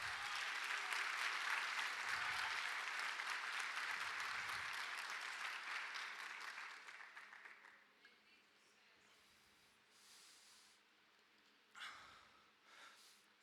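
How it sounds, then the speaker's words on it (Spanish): A church congregation applauds at a Spanish-language service: a dense, steady clatter of clapping that thins and fades over several seconds, leaving scattered faint claps and a quiet room. "Denle un aplauso al Señor."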